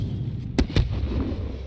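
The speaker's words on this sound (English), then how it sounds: "Sergeant, fire a flare from the launcher on the roof." A flare launched from a rooftop launcher in Call of Duty: Modern Warfare (2019) makes two quick, punchy bursts in rapid succession over a dense, rumbling battlefield backdrop.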